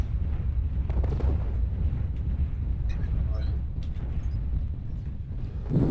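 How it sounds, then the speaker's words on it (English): Missile explosions in the video game MechWarrior: Living Legends rumble low and heavy in a continuous, booming barrage, with voices talking underneath. "Fucking infinite missiles."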